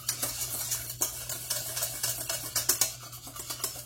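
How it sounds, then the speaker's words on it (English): Confectioner's sugar being stirred into a caramel topping, giving a steady run of scraping, clinking utensil strokes against the pan for several seconds with no talking. "just stir, stir, stir. We're just going to keep stirring that."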